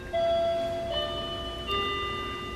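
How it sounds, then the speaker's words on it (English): A home doorbell rings out in sustained bell-like chime tones, one note giving way to another and a second strike near the end, moderately loud inside the house with no talking. "You guys probably heard our doorbell."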